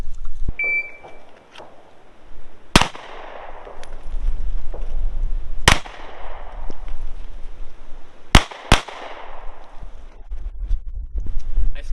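Loud, sharp pistol shots at an outdoor range during a timed practice drill: one shot, then a second about three seconds later, then a close pair, all over wind noise, with a short electronic timer beep at the start.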